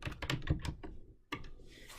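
Computer keyboard typing as a team name is entered in a baseball and softball scorekeeping program, a quick close burst of keystrokes, a brief pause, then another short run of taps.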